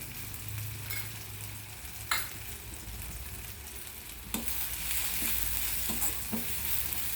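Spices including chaat masala and red chilli powder frying in a pan for hotel-style dal fry, a continuous close sizzle broken by occasional spoon scrapes and knocks against the pan, with no talk.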